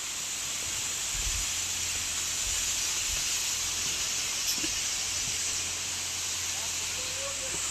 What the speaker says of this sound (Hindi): देखिए वहाँ से बहता है कलकल झरना